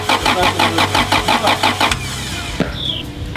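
A turbocharged Honda CRX engine cranks rhythmically for about two seconds, loud and close, then stops without catching; a short click follows and a thin whine trails off.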